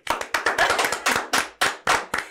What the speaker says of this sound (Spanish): Tenés que aplaudir